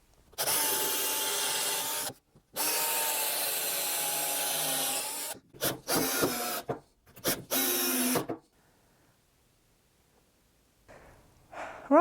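A power drill drives screws into wooden Christmas tree pieces from the back, long whirring runs separated by short gaps, then a few brief bursts before falling silent.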